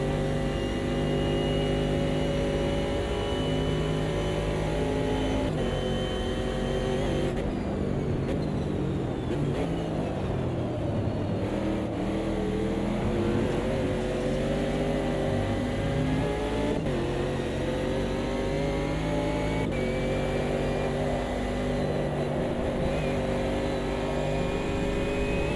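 Racing car engines in Automobilista 2 drone loudly and steadily throughout, rising and falling in pitch through gear changes, with several cars roaring together in a close pack.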